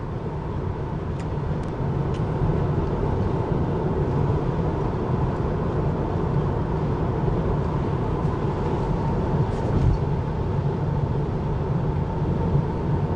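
Steady broadband road and tire rumble inside a moving Tesla Model 3 Standard Range Plus, a constant low roar with no voices, heard from the cabin for the full stretch.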